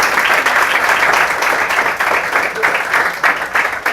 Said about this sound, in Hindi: आप ताली बजाकर उनका स्वागत कर सकते हैं